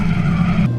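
A car drifting in the Assetto Corsa racing game lets out a loud, sustained tire squeal over a droning engine. The squeal holds steady, then drops in pitch near the end.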